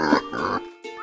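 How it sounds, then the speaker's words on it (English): A pig grunts and oinks in a couple of short, close snorts. "Pig."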